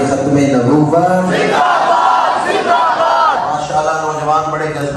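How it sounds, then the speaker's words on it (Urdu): Young men in a crowd chant a religious slogan together at a Rabi ul Awal milad gathering in Sialkot, loud and sustained voices rising and falling in unison throughout. "نوجوان بڑے جذبے سے نعرہ لگا رہے ہیں"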